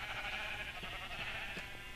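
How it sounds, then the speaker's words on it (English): Sheep in a block-building video game give faint bleats that come and go over a steady hiss of game ambience. A few short calls rise briefly and then drop back into the background. "My sheep."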